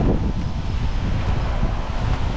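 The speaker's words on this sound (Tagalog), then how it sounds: "Lakas na naman ang hangin." Loud wind roars across the microphone in a steady rumbling rush, with faint rustling underneath and no voices.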